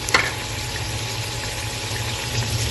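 Chicken frying in a pan with tomatoes, cumin and black pepper just added, giving a loud, steady sizzle with a brief clatter at the start and no talking.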